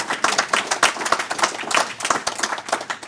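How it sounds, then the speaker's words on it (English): A small audience at a talk on a youth mental health commission report claps in thanks. The hand claps are sparse and individually distinct, irregular and close, and last about three seconds. "Thank you for leading the applause"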